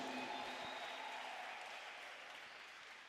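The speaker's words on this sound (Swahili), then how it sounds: "mshangilie Bwana kwa makofi mengi mengi mazuri" A church congregation claps steadily in a sustained round of applause, a broad even patter that fades slightly toward the end, heard alone without talk.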